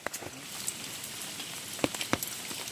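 Rain falls steadily at a shrimp and crab trapping spot, a soft hiss with scattered brief drop taps, faint and close, with no talking.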